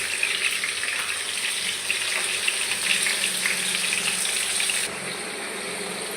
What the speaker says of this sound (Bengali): আলুগুলো লাল লাল করে ভেজে নেব।